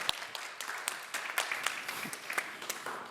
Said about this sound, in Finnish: Voidaan antaa tässä väliin vielä aplodit panelisteille.